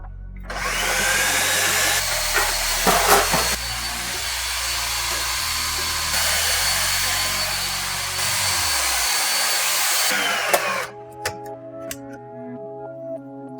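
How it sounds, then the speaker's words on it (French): A blender whirs steadily as it purees a squash sauce for gnocchi, making a loud, sustained motor whine for about ten seconds with slight pitch shifts before cutting out, after which faint kitchen sounds and a low hum remain. "il ne reste plus qu'à mixer"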